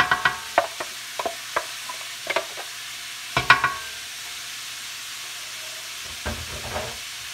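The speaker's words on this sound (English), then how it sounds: "And we're going to stir this around." Chopped vegetables for cabbage soup are stirred in olive oil, producing a low sizzle under a run of quick spoon clicks and scrapes against the pot, with a few firmer stirs near the end.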